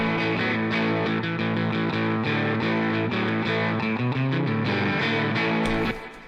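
A distorted electric guitar riff plays steadily, its notes trailing into echoing delay and a wash of reverb before fading out at the end.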